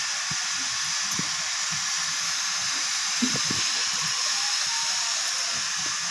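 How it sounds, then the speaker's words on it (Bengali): Oil heating in a hot kadai gives a steady, even sizzle and hiss throughout, with faint low clatter from the kitchen beneath it. "কড়াই গরম হয়ে গেছে, এখানে তেল দিয়ে দিচ্ছি।"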